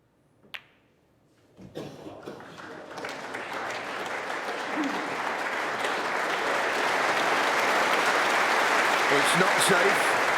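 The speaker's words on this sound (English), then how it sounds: "Applause." Snooker crowd at a Masters quarter-final starts applauding after a single sharp click, the clapping swelling quickly into loud, sustained applause that carries on to the end.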